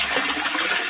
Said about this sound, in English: Let's just give these a quick rinse.